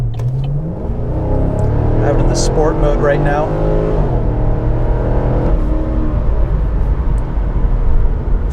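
A Chevy SS sedan's LS3 6.2-liter V8 rumbles and rises in a rev, loud and close with a steady low drone throughout, while someone talks over it.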